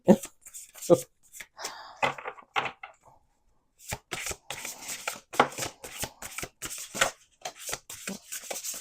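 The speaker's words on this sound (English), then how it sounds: "We're going to do one more shuffle." Oracle cards are shuffled by hand in quick bursts of crisp riffling and slapping, with a brief pause midway before a longer run of rapid card flicks, close and fairly loud.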